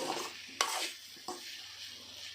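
A spoon stirs roasting Rayalaseema-style eggplant curry in a pan, with two sharp scrapes against the metal over a soft, steady sizzle and no talking.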